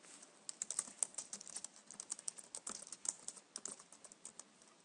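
Quick, irregular keystrokes on a computer keyboard patter close to the microphone in short bursts, soft and crisp with no talking.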